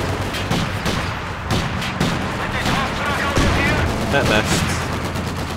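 Battle sounds from Company of Heroes 2 at Stalingrad: rifle grenade launches and rattling gunfire form a dense, continuous barrage of rapid shots and bursts, with a voice briefly speaking over the din.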